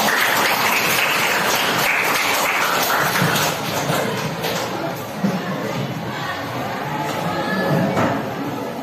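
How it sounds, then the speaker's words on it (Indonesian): Students in a classroom applaud a student group about to give a persuasive speech presentation, a continuous wash of clapping from many hands with murmuring chatter that runs steadily for the whole stretch. "Tepuk tangan untuk kelompok 1."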